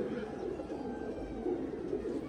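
Pigeons coo steadily in a winter loft of high-flying pigeons, a low murmuring chorus running throughout at moderate volume with no voices.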